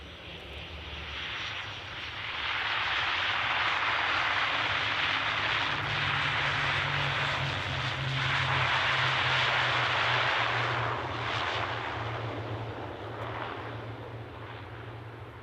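A Loganair ATR 42-500 turboprop airliner at Edinburgh airport drones loudly with a steady engine roar and a low propeller hum, swelling and easing slightly over fifteen seconds.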